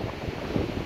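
Wind gusts across a sea coast near Cap Barbas during an evening fishing trip, a brief rough blustering rush buffeting the microphone along with a low surf-like roar, fairly loud and without speech.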